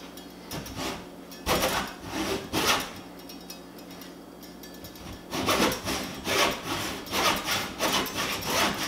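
A hacksaw cuts through material during a granite bar installation, with a series of rasping back-and-forth strokes in two bursts separated by a quieter pause. The strokes are close and fairly loud, with no talking.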